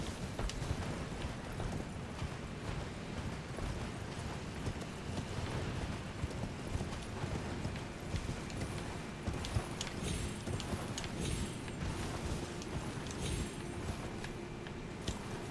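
Horse hooves clip-clop steadily while riding through Elden Ring, a continuous rhythmic beat that sits under dense game ambience for the whole stretch.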